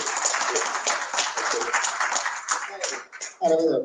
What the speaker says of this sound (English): I think it deserves a warm applause.